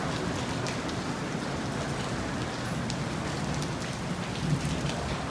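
Steady, dense rain falls outside during bad weather, a continuous close hiss of drops on surfaces with faint rumbling beneath and no voices.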